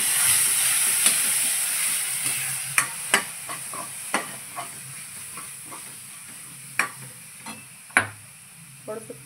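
Masala sizzles and fries steadily in a pan after two spoons of yogurt are added, a close hissing bed broken by sharp scraping clicks of a spoon stirring at irregular intervals.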